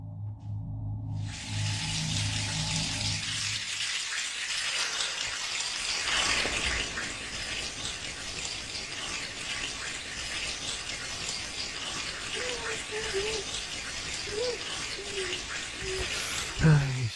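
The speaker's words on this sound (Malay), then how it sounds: "Air mencurah-curah atas kepala" Shower water pours steadily over a head in a bathroom scene of a radio horror drama, a continuous broad hiss that starts abruptly after a low hum and runs unbroken throughout, with faint voice-like tones near the end.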